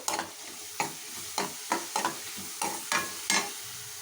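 Mustard seeds, thinly sliced onions and green chillies fry in hot oil for a gonkura chicken curry, a steady sizzle broken by about nine sharp stirring scrapes of a spoon against the pan at an irregular rhythm, close and clear with no talk.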